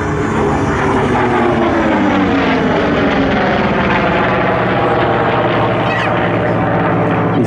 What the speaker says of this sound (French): C'est un avion qui vole vite, qui vole haut, qui vole loin